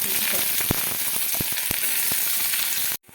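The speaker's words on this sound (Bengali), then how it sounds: "তেলটা গরম হয়ে গেছে, দেবো পেঁয়াজ ভাজছি।" Onions sizzle loudly in hot mustard oil in a pan, a dense continuous fry with a few sharp pops and stirring knocks before stopping abruptly.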